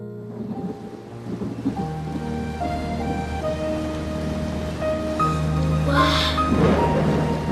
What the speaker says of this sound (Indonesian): Hujan. Pasti ibu hujanan nih.